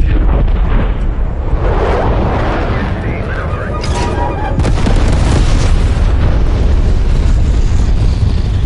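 A napalm strike in Call of Duty Cold War sets off heavy continuous rumbling explosions, loud and dense throughout, with a deeper surge of booms midway.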